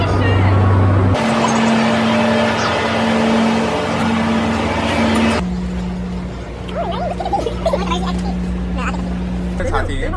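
A passenger train heading to the beach starts to pull away, its low engine drone shifting pitch partway through as it gets moving, with a steady rumble throughout and faint voices in the carriage.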